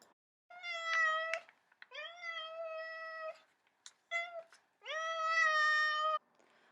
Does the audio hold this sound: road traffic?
no